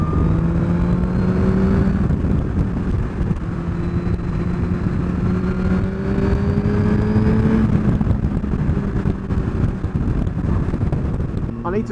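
A 2017 Suzuki GSX-R1000 motorcycle is ridden, its engine droning steadily with rising revs as it pulls hard, with wind rush throughout and a rider speaking over it.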